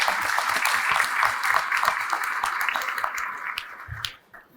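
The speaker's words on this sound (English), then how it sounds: "So give them a round of applause," Audience applause at a chamber of commerce business event, steady and dense clapping from a crowd lasting about four seconds before tapering off quickly.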